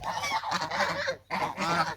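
Geese or ducks honk loudly and close by in two harsh, raspy bursts broken by a brief pause, with several birds calling over one another.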